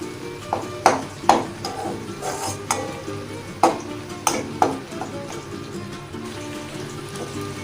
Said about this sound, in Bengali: তো রসুনটা দিয়েও আমি আর একটু ভেজে নেবো ভালো করে